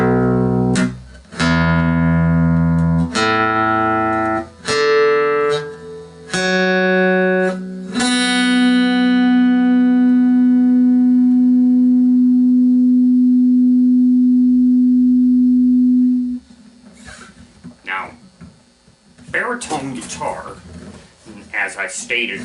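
A baritone guitar, tuned a fourth below standard, plays its open strings one at a time in a steady sequence, then lets the final note ring out at length before faint handling noise.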